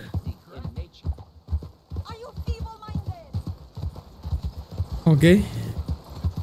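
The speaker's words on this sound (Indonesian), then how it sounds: "nyetir kuda udah kayak nyetir angkot" Horse hooves clip-clop steadily in Red Dead Redemption 2 gameplay, a continuous rhythmic trot under near-constant talk, with a brief whinny-like burst near the end.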